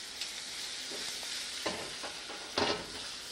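Frog legs and garlic fry in a pan with a steady close sizzle, broken by a few soft clatters as the pieces shift and one louder splattering burst near the end.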